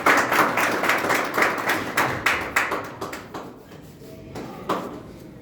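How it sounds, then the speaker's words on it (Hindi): Audience applause welcoming a speaker onto the stage at an event, a run of sharp, rhythmic claps, loud at first and then thinning to scattered, fading claps. "तो सबकी तालियों के साथ उनका वेलकम करेंगे"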